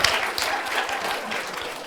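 Audience applause for a panel at a software engineering conference, a steady wash of many hands clapping from the room, fairly loud and continuous for the whole stretch without a break.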